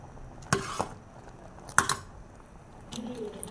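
Sago custard cooks in a pot while a spoon stirs it, giving a few distinct scraping knocks against the pot side over a low, faint simmering background.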